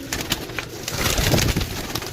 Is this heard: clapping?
no